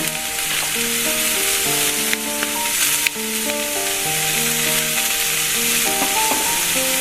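Mutton masala with coconut fries in a pan, giving a loud, steady sizzle with occasional stirring scrapes, heard continuously beneath background music.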